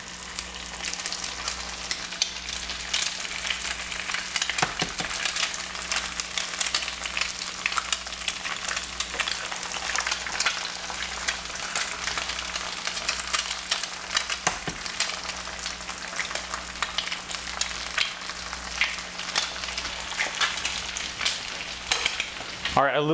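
H-E-B brown eggs frying in a pan over medium-low heat, a steady close crackling sizzle running throughout with scattered louder pops.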